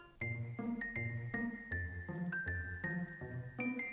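Jingling bells and tassels in the game Discworld 2, heard as a steady run of bright tinkling bell tones over a low, pulsing musical backdrop, continuous and fairly loud with no talking.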